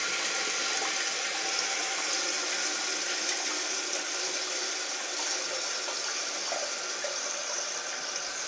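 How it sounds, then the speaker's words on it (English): Water hisses and rushes steadily as a toilet tank refills and its float rises, a constant close-up flow without pauses or talking. "The tank starts to refill."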